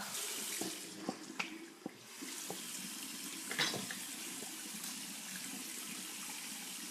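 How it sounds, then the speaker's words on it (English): Running water from a sink tap splashes steadily while someone washes their face with their fingers, with a few small knocks and splashes near the start and no voices. "I'm just gonna wash my face real quick with my fingers"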